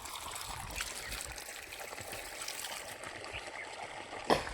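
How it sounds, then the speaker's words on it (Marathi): Water running steadily from a hose into a dried-out lemon orchard, a constant low trickling and gurgling flow with no one speaking and a brief sharp knock near the end. "एवढं पाणी चाललेलं आहे"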